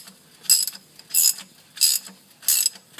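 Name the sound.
tightening transmission pan bolts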